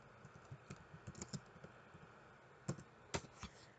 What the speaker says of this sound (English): We're just gonna type Wikify